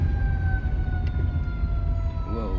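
Sirens from emergency vehicles in heavy traffic hold a loud, continuous wail over a dense rumble of passing vehicles, and a brief warbling tone comes in near the end.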